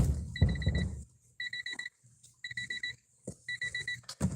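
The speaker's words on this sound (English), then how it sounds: "let me close this so it'll stop beeping at me for a minute" An appliance beeps in quick clusters of four high-pitched tones, repeated four times with short pauses, over faint background rumbling and clatter.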